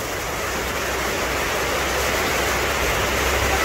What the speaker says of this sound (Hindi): इस झरने की बात तो सुन लो।